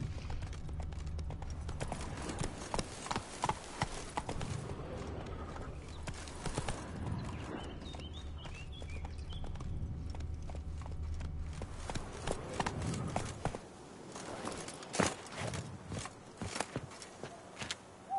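Steady clip-clop of horse hooves in The Witcher 3, a continuous walking-to-trotting rhythm close by, running the whole time with low game ambience and no talk.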